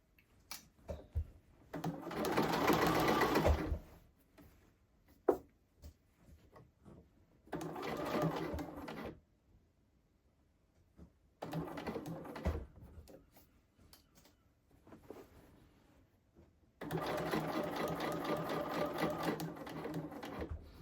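Sewing machine sewing and back stitching a blazer shoulder seam, heard in four separate bursts of steady mechanical whirring, the last longest, with quiet gaps holding small clicks and handling sounds.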